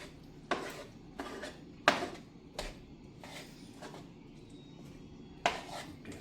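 Breakfast fried rice being stirred in a pan, with several sharp utensil clinks and scrapes against the metal at irregular intervals over a low steady background hiss, close and moderately loud, no talking.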